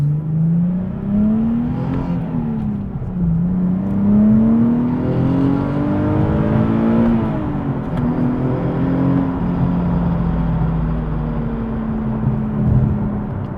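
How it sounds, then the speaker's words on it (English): A Nissan 370Z engine revs hard at wide open throttle, close and loud, its pitch climbing in repeated sweeps with brief dips between pulls and a steady roar throughout. "let's see what a full wide open throttle"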